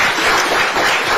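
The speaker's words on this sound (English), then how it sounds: "A round of applause." An audience at a Kenyan presidential press address breaks into a short, dense burst of applause with no talk.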